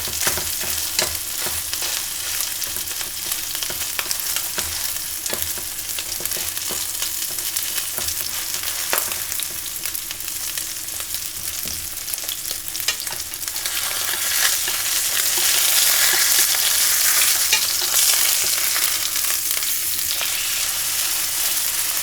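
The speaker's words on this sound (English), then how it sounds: "We'll let it sear there for a minute and a half." A ribeye steak, cooked sous vide, sears in a hot pan with a continuous loud, crackling sizzle that grows slightly stronger toward the end, close and without talk.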